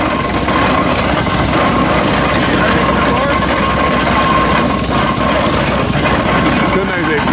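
A tractor and combine engine runs steadily in the field, a constant rumbling drone that stays at an even level for the whole stretch.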